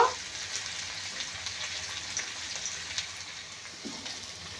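Onion frying in a pan for a rural-style taro leaf mash, giving a steady soft crackling sizzle with fine popping throughout, fairly quiet and close.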